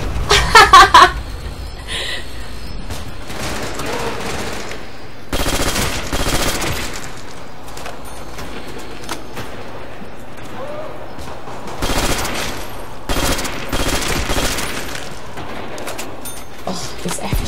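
FG-42 rifle fire in the Nacht der Untoten zombie mode, with repeated loud automatic bursts and bursts of single shots spread across the clip, separated by quieter game noise and occasional chatter.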